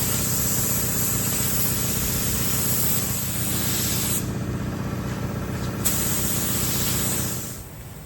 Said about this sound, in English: So I'm gonna put one coat on, let it flash for about 10 minutes.